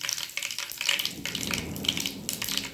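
Spices and asafoetida frying in oil for cauliflower pickle: a dense, bright crackle with rapid popping and spitting, steady and close throughout, with no voices.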